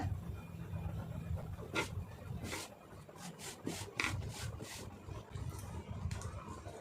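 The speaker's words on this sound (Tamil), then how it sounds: "கரெக்டாக பார்த்து துணி கட் பண்ணிக்கிறோங்க" Scissors cut blouse fabric on a table, making soft rubbing, scraping strokes with a few sharper snips over steady background noise, close and faint, with no talking.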